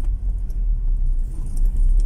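Jeepneys pass on a busy road, a steady low engine rumble and traffic drone close by, continuous throughout without talk.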